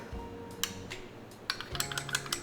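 Bait ingredients and silver glitter stirred together in a container: light clinks and scrapes of a utensil against the sides, irregular and close, over a low steady hum.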